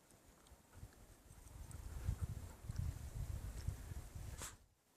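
Soft hoofbeats of a horse walking on a trail, a loose clip-clop rhythm rising and fading at a moderate distance, quiet overall.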